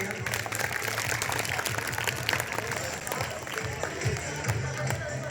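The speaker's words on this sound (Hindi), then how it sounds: "इनके लिए जोरदार तालियां" Loud applause from a school gathering at a Republic Day celebration, a dense crackle of many hands clapping continuously, with a low murmur of voices and some movement underneath.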